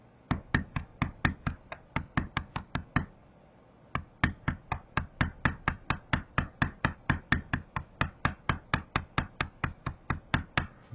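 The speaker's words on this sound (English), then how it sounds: "And let's do some beveling." A hand tool being struck repeatedly for beveling, heard as a long run of sharp, evenly spaced close taps at a quick steady rhythm, with one brief pause near the start.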